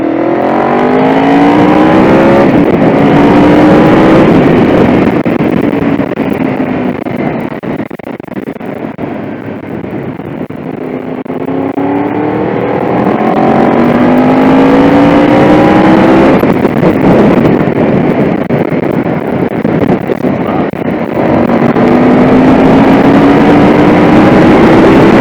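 A Honda VFR750 motorcycle engine droning steadily through a tight corner, its pitch easing down and climbing again as the rider eases off and gets back on the throttle, loud and close with wind noise throughout.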